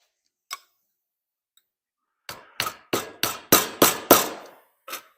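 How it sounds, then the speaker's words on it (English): Metal hammer blows on the outer edge of a 1955 Chevy car body, starting with a lone tap, then six loud, evenly spaced strikes in quick succession and a final softer hit, with no talk. "I'll be hammering on this side."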